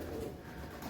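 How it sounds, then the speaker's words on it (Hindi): Domestic pigeons coo softly in a loft during rain, a low, murmuring burble that continues steadily at a quiet level with no talk. "कबूतर आ गए हैं बाहर, बच्चे बुच्चे भी आ गए हैं बाहर"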